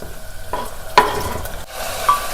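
Onion and tomato fry with turmeric in a pan, a continuous close sizzle broken by a couple of quick spoon scrapes and stirs over a little more than two seconds.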